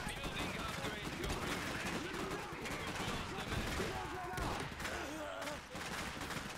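Machine gun fire in the strategy game Iron Harvest comes as a dense, continuous rattle of gunshots and thuds throughout, with a voice talking over the battle.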